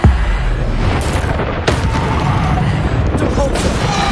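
In the Hogwarts Legacy video game, a Bombarda spell detonates with a loud, close boom followed by rumbling blasts and debris in combat, while a voice calls out spells over the noise.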